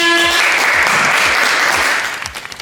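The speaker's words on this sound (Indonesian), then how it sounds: "Boleh beri tepuk tangan semuanya." A crowd at a corporate gathering in a Surabaya hotel breaks into loud, dense applause that sustains for about two seconds, then thins to a few scattered claps, with a brief voice at the start.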